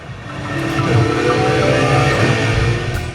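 Racing game engine sounds from a Vasaro modular race simulator: a loud, steady engine drone with shifting revs and a deeper roar near the end, with no talking.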